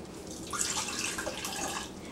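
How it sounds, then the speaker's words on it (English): Vinegar poured steadily from a container into a glass for a science experiment, a soft continuous liquid trickle lasting about two seconds. "what we're going to start by doing is pouring the vinegar into the glass"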